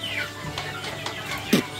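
Chickens cluck on a poultry farm where breeder and growing birds are kept, scattered soft clucks and short calls over a steady background hum, with one louder cluck near the end.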